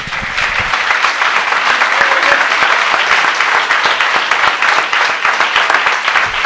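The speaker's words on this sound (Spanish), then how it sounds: "Démosle un aplauso al Señor, hermano." A church congregation bursts into loud, sustained applause during a sermon, many hands clapping in a thick, even stream that fills several seconds without speech.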